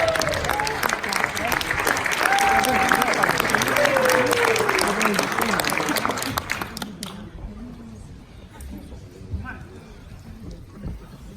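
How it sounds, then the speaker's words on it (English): A standing audience at a recruiting seminar gives a big round of applause with whoops and cheers. The clapping is loud and sustained for several seconds, then quickly dies away to a quiet room. "Stand to your feet. Big round of applause for Marco Passanante."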